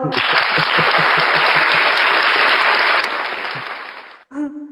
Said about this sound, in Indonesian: Tepuk tangan untuk keduanya deh ya